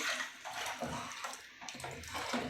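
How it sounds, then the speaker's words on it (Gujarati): Water being poured into boiled sambar in a home kitchen, a soft, continuous splashing pour heard close up but quiet, with no voices. "હવે આમાં થોડુંક પાણી એડ કરી દઈશું"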